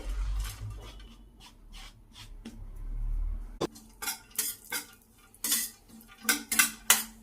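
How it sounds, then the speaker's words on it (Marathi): Dry fruits roast in ghee in a pan, stirred with a metal spoon that gives sharp scraping clinks and taps, sparse at first, then quicker and louder near the end; a low rumble fades out midway. "तूप टाकून भाजून घेऊ ड्रायफ्रूट परतून घेऊ"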